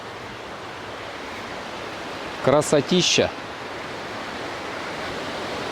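A mountain river near a waterfall in Sochi rushes as a loud, constant broadband roar throughout, with a brief spoken exclamation in the middle.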